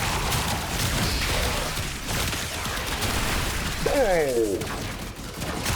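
Gunfire from the Incarnon Prisma Angstrum in the video game Warframe: a dense, loud barrage of shots and blasts, with a brief exclamation from a player partway through.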